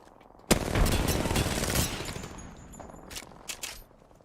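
A grenade explosion in a video game with gunfire, a sudden sharp blast followed by a rumbling burst of rapid shots that fades into a few scattered cracks.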